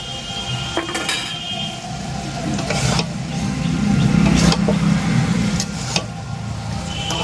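Masala with whisked yogurt stirred and sautéed in a pot, a low bubbling sizzle with scattered metallic scrapes and clinks of a ladle against the pot, close and fairly loud.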